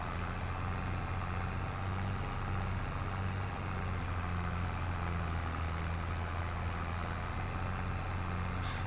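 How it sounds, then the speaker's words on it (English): An Allis Chalmers 440 tractor runs steadily while pulling an old disc chisel plow about 10 inches deep in a field. Its loud, even diesel drone and low throb continue unbroken throughout, with no talk. "You guys have to let me know if that tractor's still too loud"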